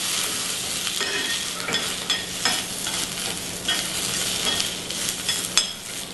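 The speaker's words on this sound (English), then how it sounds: "So we're just going to kind of stir these around a little bit." Pole beans and field peas sizzling in a pan while being stirred, a continuous bright frying hiss with repeated spatula scrapes and clicks, close and steady.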